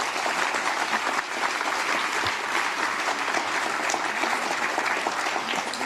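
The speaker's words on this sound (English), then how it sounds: "Let's have another round of applause for Diya." A dense, steady wash of audience applause fills a hall after an arangetram dance debut performance, sustained and even throughout with no voices over it.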